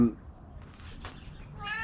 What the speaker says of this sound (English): The cat wants to join in on the conversation, don't you?